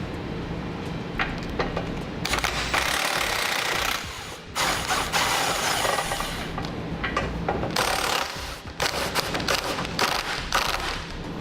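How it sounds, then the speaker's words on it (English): Ratchet wrench with an 18mm socket backing off bumper beam nuts on a 2013 BMW 3 Series, loud rapid clicking and grinding bursts close by, broken by short pauses. "I'm going to be using an 18mm socket to remove those nuts"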